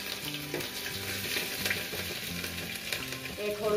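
Mustard seeds and cumin crackle and sizzle in hot oil for masala khichdi, a close, continuous frying hiss with scattered pops and some stirring clatter.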